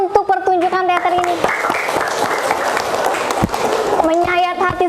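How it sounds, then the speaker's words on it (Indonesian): An audience bursts into applause for a school theatre performance. Dense clapping swells in the middle, and voices talk before and after it. "Ya, tepuk tangan untuk pertunjukan teater ini."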